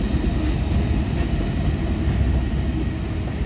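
Norfolk Southern 10K freight train rolling past at Creighton, Pennsylvania, a loud continuous rumble of railcars and wheels on track, close and steady with no voices.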